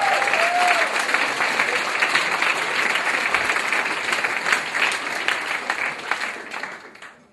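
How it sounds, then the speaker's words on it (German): A comedy-club audience applauds a stand-up comedian with loud, dense clapping that holds steady, then thins and fades toward the end. "noch einen Applaus"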